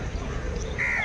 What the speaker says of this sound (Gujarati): કાગડા ખાવા મીને જો મિત્રો કાગડાની લાઈન થઈ જાય ઉપર જો અહીંયા જો